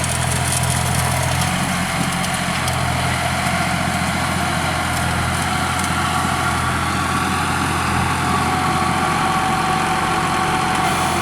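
A John Deere tractor engine runs in a dry, dusty field during pumpkin seed sowing: a steady, unbroken mechanical drone with a low rumble beneath a hissing upper layer, constant in level and close by, with no voices.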